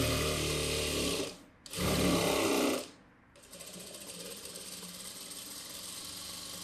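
A tailor's sewing machine stitches the edge of a boat neck blouse in two loud, fast whirring bursts, then settles into a quieter steady run.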